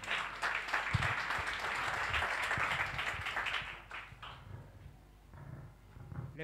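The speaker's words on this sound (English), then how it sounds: "Can clap for him." Congregation at a church in Kawangware applauding, a dense burst of clapping that fills the first few seconds and then thins out into scattered claps and murmuring.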